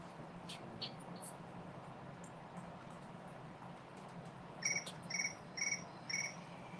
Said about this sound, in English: Yeah, crickets.